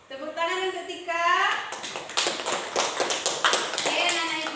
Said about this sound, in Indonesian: Oke, tepuk tangan untuk Tika.